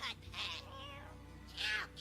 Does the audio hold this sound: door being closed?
no